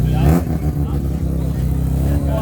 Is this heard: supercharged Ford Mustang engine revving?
yes